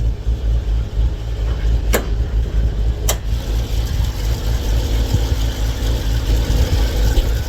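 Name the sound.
rebuilt car engine idling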